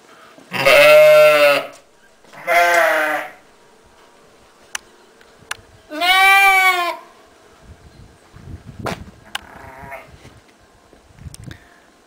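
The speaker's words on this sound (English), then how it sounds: "Slovenian sheep." Slovenian sheep bleat outdoors in three loud, drawn-out calls with a few short pauses between, followed by quieter rustling and scattered faint noises.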